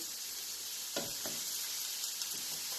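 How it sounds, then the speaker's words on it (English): Steady, crackling sizzle of mince frying in a pan with onions, garlic and peppers for chilli con carne, with a few soft scrapes of stirring. "Sizzling away there nicely."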